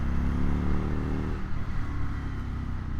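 An Indian FTR1200 motorcycle engine rumbles loud and close while riding, a steady throbbing drone that shifts pitch as the revs ease off partway through, over rushing wind, with no voices.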